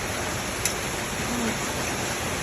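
Rain falls steadily outdoors beside a pot of vegetables boiling on the stove, a dense, even hiss with no talk.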